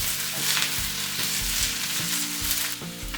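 Noodles and vegetables, with carrot, stir-fried in a hot pan, giving a loud, steady sizzle with occasional stirring scrapes and no talking.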